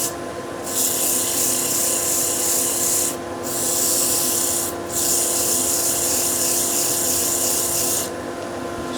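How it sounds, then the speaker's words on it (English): Wooden bowl being sanded with 100 grit abrasive on a lathe, a steady close rasping hiss broken by two short pauses, continuous and alone without voices. "That's a 100 grit, and I want to make sure everything in terms of removal of tool marks, of tears and things like that is done"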